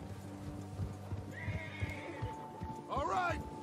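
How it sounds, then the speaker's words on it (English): A horse in Red Dead Redemption 2 whinnies loudly near the end while steady hoofbeats clop underneath, with a voice talking over the ride. "Yeah, giddy up, horse"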